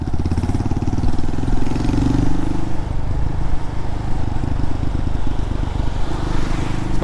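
Honda motorcycle exhaust recorded while riding through Appledore village, a loud, steady, close engine rumble with a throbbing low pulse throughout, easing slightly midway and then carrying on.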